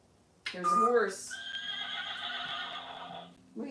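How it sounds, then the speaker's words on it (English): A single loud horse neigh, a quavering whinny that rises then holds and fades, close and clear against near silence. "Here's a horse."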